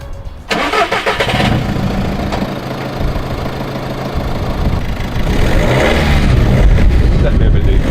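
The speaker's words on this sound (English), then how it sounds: "that's the exhaust on, so first start, see if it sounds anything different." A BMW E46 with a newly fitted exhaust cranks and fires up, catching sharply and settling into a loud, steady idle that swells slightly toward the end, heard close with no talking.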